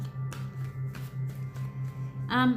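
Oracle cards are shuffled in quick repeated riffles, close and fairly soft, with a brief voice at the end.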